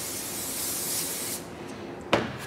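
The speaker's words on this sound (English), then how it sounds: "What we're gonna do is take our spray adhesive, figure out which way we want it." Spray adhesive sprayed in one steady hissing burst onto a Chevrolet 454 big block fuel pump gasket, close and loud, stopping abruptly, followed by a short clatter.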